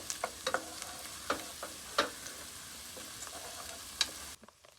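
Onions frying in a pan for a Hyderabadi green chicken curry give a steady sizzle broken by sharp scraping stirs, with several clacks of the spatula before the sound cuts off near the end.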